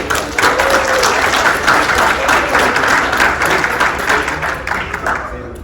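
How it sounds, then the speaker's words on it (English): An audience applauds a brave volunteer at a motivational talk, a steady, fairly loud wash of clapping that lasts throughout, with a little voice mixed in. "give him a round of applause"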